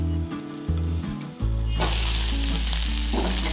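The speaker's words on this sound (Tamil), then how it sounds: "ஃப்ளேம் ஹைலியே வச்சுட்டு வதக்கிக்கலாம்." Onions sauté in a pan over a high flame. A few soft knocks and stirring scrapes come first, then a loud, bright sizzle bursts in and keeps crackling steadily to the end, with no talking.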